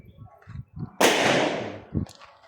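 A single sharp 9mm handgun shot cracks loudly at close range with a long decaying echo, surrounded by quiet voices talking before and after.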